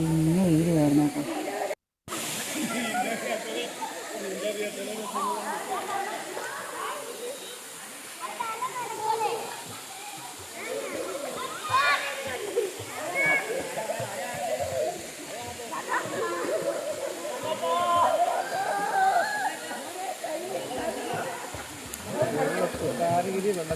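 Steady rushing water at Thusharagiri waterfall, a dense continuous roar that fills the whole scene with only a brief break near the start.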